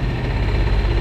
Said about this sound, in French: Alors, franchement là le moteur c'est une horloge